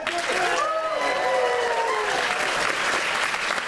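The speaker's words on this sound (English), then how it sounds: "A round of applause," Conference audience applauding a talk at a game-development event, a dense, steady wash of clapping that holds at full strength throughout, with a few voices and cheers mixed in near the start.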